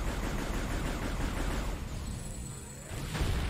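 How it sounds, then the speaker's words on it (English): Explosions and gunfire rage in the video game Metroid Prime 3 as a dense, continuous roar of blasts. They briefly thin out before surging back. "Man, sure it's a good thing all these explosions aren't damaging to Samus's armor at all"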